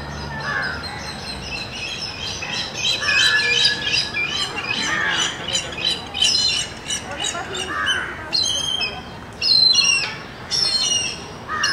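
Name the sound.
birds calling in a park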